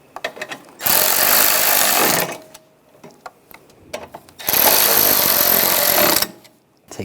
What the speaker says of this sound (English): And take the bolts, get those started, and tighten those down.